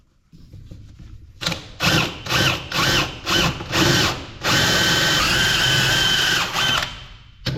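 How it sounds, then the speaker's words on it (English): A power drill runs a hole saw through material in several short bursts, then one long sustained cut with a rising whine. It is close and loud, with no talking. "when you're drilling with these hole saws"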